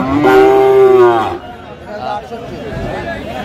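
A Sahiwal bull at a Chattogram cattle market lets out one loud, close moo lasting about a second, followed by murmuring crowd noise and nearby talk.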